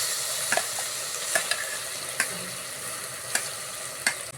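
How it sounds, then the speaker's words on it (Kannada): Tomatoes with bay leaf and ground spice paste stirred and fried in a pan, a steady sizzle broken by sharp spoon-scraping clacks every second or so. "ನಾನೀಗ ಟೊಮೊಟೊ ಹಾಕೊಂಡು ಚೆನ್ನಾಗಿ ಮಿಕ್ಸ್ ಮಾಡ್ಕೊಳ್ಳಿ."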